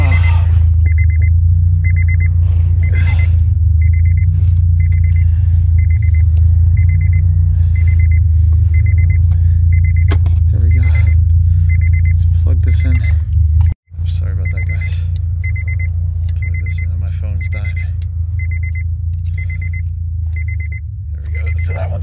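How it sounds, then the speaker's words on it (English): A 2004 Honda Pilot with a 3.5-liter engine, just fitted with a new fuel pump and relay, idles steadily with a deep, even rumble, alongside a regular electronic beeping; the engine cuts out briefly midway, then resumes. "This car's running now. See, it's running."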